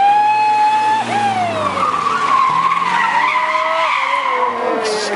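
A rally car at the Rampa Dos Barreiros hillclimb spins out, its tyres skidding with a long, steady squeal over the loud engine note, close and sustained for several seconds.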